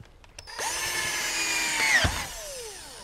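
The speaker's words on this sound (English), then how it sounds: "all we have to do is to get our drill" A power drill whirs steadily at close range for a couple of seconds, driving a screw into a ceiling panel, its pitch dipping sharply as the screw seats, then winding down.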